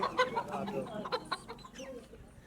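A chicken clucks in short, repeated, rising and falling calls. The sound is fairly faint and close, with a quiet background.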